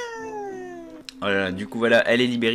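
Game cat meowing in Minecraft, a drawn-out sliding cry heard clearly at first, followed by a person talking excitedly over it.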